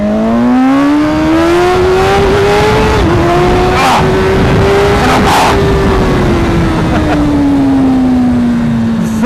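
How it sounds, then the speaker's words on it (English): 2016 BMW S1000RR sport motorcycle with electronic drive-by-wire throttle held open, its engine howling loud and close in a sustained high rev that rises, dips, then climbs and slowly falls, with wind rush throughout. "I'm holding the throttle open."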